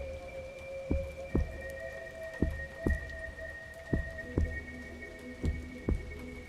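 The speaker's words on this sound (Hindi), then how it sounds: "बारिश अब भी रुक रुक कर गिर रही थी।" Rain falls as slow, distinct drops that land every half second or so, each with a soft plunk over a quiet, faintly humming background.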